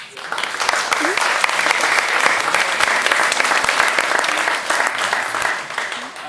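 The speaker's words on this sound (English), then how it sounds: "I'd like to applaud them for" Loud, sustained audience applause after a school theater production of No Body To Murder, dense clapping from a large crowd for about six seconds that tapers slightly at the end.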